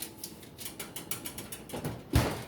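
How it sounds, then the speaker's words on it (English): A mechanical kitchen timer being wound, giving a run of close, regular ratcheting clicks that end in a louder clunk, with no talk. "Set my timer."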